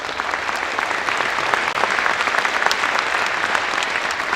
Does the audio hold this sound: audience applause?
yes